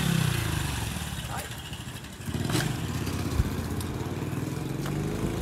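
A motorcycle engine idles and putters nearby, its steady rattling drone rising briefly as it revs a little, with faint voices in the background.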